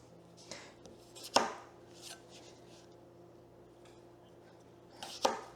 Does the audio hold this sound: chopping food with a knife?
yes